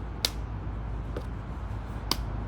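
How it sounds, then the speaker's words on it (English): A person doing crunches gives two sharp, close hand claps about two seconds apart, with a fainter tap between them, over a low steady background rumble. "crunch up and clap"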